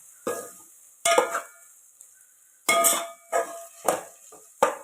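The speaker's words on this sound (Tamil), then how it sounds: "நல்லா ஒரு வதக்கு வதக்கி விட்டுட்டு" Ginger garlic paste sautéed in a pan for a chicken gravy: short bursts of sizzling and scraping come and go, about six separate stirs with quiet gaps between, close and clear with no talk.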